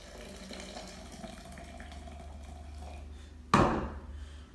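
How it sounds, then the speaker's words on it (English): Hot water pours onto two heaped tablespoons of ground coffee in a French press, a short splashing gush that starts abruptly after a steady low room hum and then trails off. "Pour our hot water in."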